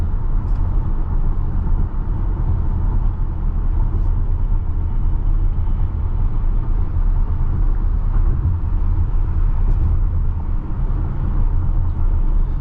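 Inside a moving Tesla Model Y, a steady low road rumble and tyre roar fill the cabin continuously and fairly loud, with no one speaking.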